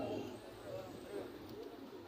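Fancy pigeons coo softly and continuously nearby at the Sakhipur market, low throaty calls over a faint murmur of voices.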